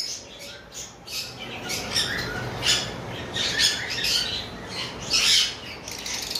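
A lutino red-head breeding pair of birds in a shop gives repeated harsh squawks and chirps, close and fairly loud, coming in bursts over a steady noisy background.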